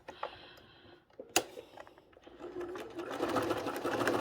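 A sewing machine stitches a paper-pieced quilt star block, the motor running in a steady buzzing whir that builds louder toward the end after a sharp click, with faint background sounds.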